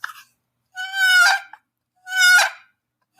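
A voice imitates a turkey box call: two harsh, raspy, drawn-out squawks with a short pause between them, loud and close.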